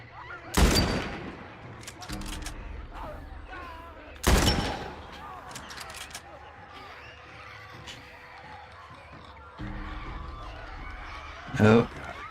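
Gunfire in the video game The Last of Us Part 1: a few widely spaced, sharp, loud shots with quieter ambience and faint voices between them.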